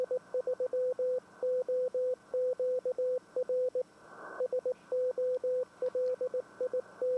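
Morse code CW tones on an amateur radio band beep in quick dots and dashes, a steady keyed stream with a brief burst of static partway through, moderately quiet and without speech.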